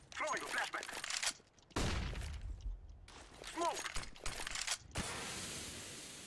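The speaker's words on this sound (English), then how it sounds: "Throwing a flashbang." In a shooter video game played on FACEIT, bursts of rapid gunfire are broken by sharp blasts, including a flashbang going off, and the loud crackling effects stop and start in uneven clusters, with player voices talking among them.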